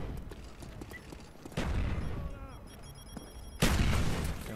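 Gunfire from the video game Black Ops 1 bursts out in a couple of loud volleys amid busy game sound effects and faint background tones.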